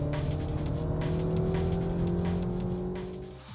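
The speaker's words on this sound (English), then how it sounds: "it blips the throttle, increases the revs, and makes it a smoother gear change" A 2014 Mini Cooper S engine revs and blips its throttle through a gear change, a loud, close, steady engine drone with rising harmonics that fades slightly at the end.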